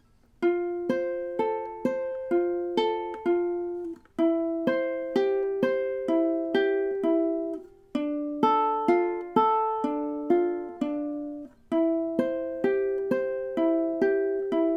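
A ukulele plays a short fingerpicked intro alone, steady plucked notes ringing in repeating phrases with brief pauses between sections.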